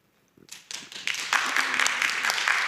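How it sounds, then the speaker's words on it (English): Applause from an audience at a chamber of commerce legislative forum starts with a few scattered claps, then quickly swells into steady, full clapping that keeps building. "Please hold your applause so that we can get through some questions."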